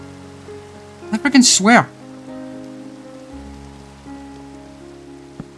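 Steady rain in the video game Minecraft hisses continuously in the background while someone talks briefly over it.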